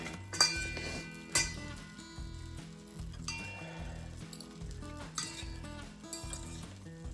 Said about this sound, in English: Try to mix this up, get the onions in throughout it.